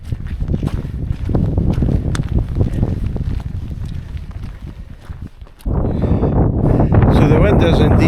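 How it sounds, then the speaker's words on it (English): Strong wind gusting across a Scottish hillside path near Queens View and The Whangie, a steady loud roar buffeting the microphone with footsteps throughout, growing fiercer and more turbulent in the last few seconds. "So the wind is indeed, as we say, blowing a hoolie"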